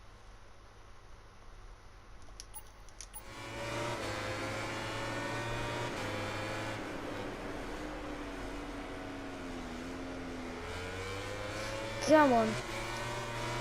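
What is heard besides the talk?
Suzuki racing motorcycle engine in video game MotoGP 19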